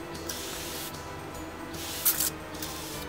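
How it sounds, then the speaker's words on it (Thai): La Roche-Posay mineral water spray hisses onto a face in short close bursts against a steady background hiss, with one brief louder puff near the end. "ฉีดแล้วก็ทิ้งไว้สักพักนะคะ เพื่อที่ให้ผิว ดูดซับเจ้าตัวน้ำแร่นี้นะคะ"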